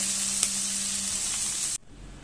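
Banana flower with prawns frying in a pan, a loud continuous sizzle with one brief utensil tap, cutting off abruptly to near quiet near the end.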